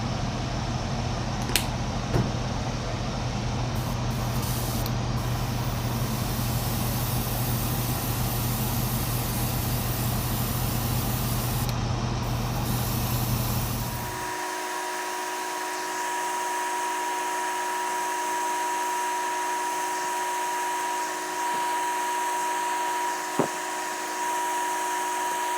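An airbrush sprays paint onto spinnerbait heads as a steady hissing rush with a compressor hum beneath. Midway the low hum drops away, leaving a thinner, quieter hiss with faint tonal whine, and no voices.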